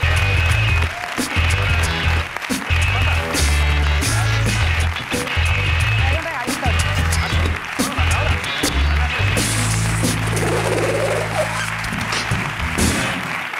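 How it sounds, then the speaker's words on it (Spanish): A television studio audience in a Spanish late-night show claps and cheers over loud pounding music with a driving beat, the applause continuing steadily throughout under the music. "Un aplauso para Ana Asensio, que está por aquí"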